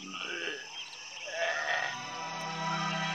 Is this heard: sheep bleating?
yes